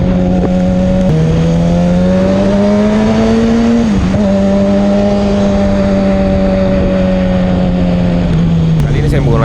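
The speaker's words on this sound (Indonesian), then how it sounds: "Menggunakan motor Kawasaki ZX-6R dan memakai knalpot M4." A Kawasaki ZX-6R sport motorcycle fitted with an M4 exhaust runs steadily on the road, its engine note holding a strong, continuous tone that dips briefly around the middle and toward the end as the rider eases the throttle.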